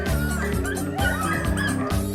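Sled dogs in Yellowknife yip, whimper and bark in an excited, overlapping chorus, several animals close by with repeated rising cries and no pause.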